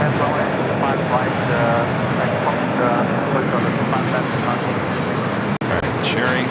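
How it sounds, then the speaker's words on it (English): A Korean Air Cargo Boeing 777 freighter landing at LAX, a loud, broad engine roar sustained throughout with a short break, while voices talk over it. "Korean Air Cargo 777 freighter touching down."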